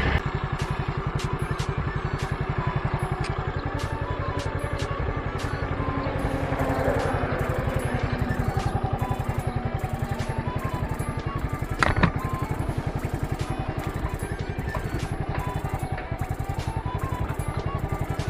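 A Yamaha Mio 115 automatic scooter engine idles steadily with a fast, even putter, plus a brief clatter partway through; no one speaks.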